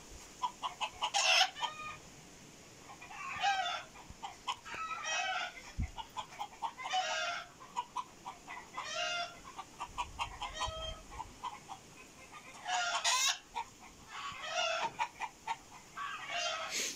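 Village chickens cluck and roosters crow in repeated calls from nearby, with several birds overlapping in an uneven rhythm and no talking.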